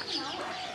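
A pet parrot gives one brief, close, raspy call while wanting a cookie.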